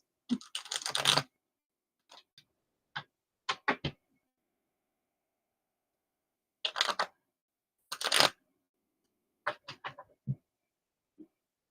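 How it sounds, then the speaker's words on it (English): Tarot cards shuffled by hand in irregular bursts of crisp riffling and slapping, close and fairly loud, separated by short pauses, with no talking. "I'm shuffling the cards just in case"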